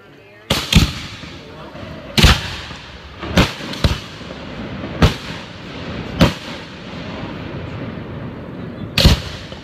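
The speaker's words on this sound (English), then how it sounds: "That was the mid firework finale. Or mid firework explosion." Large fireworks at a 2019 display, including 5 or 6 inch shells, boom loudly about seven times at irregular intervals over ten seconds, with the sharp blasts echoing between them.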